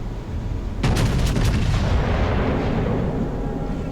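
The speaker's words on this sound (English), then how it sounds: "trying to get some rounds on them here as we're closing the range" Naval guns firing in World of Warships, a heavy booming salvo that hits suddenly and rumbles on loudly against a constant engine-like drone.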